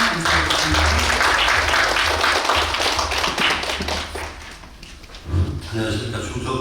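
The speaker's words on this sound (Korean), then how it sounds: "큰 박수로 맞아주시면 감사하겠습니다." An audience at a small-business research symposium claps in a dense burst of applause that slowly fades, with a little talk near the end.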